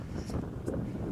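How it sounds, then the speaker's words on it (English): Wind gusts buffet the microphone on a disc golf course at Cane Creek, a low, rumbling rush that swells and dips over a short span with no talking. "But it's so windy."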